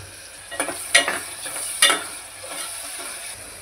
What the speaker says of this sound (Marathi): कांदा चांगला लाल होईपर्यंत भाजून घ्यायचा।